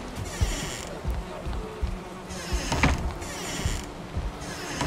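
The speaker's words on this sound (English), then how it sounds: "Soothing sound of bees." Steady droning buzz of bees in the game Valheim's soundtrack, rising and falling in loudness over soft clicks and faint background noise.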